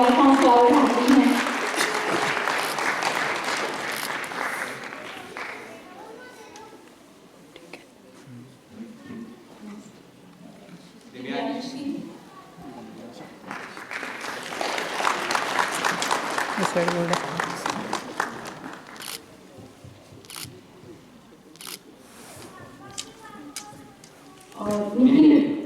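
An audience claps at a felicitation ceremony for NEET/JEE students. Bursts of applause rise and fade twice, separated by stretches of a voice talking over a hall sound system.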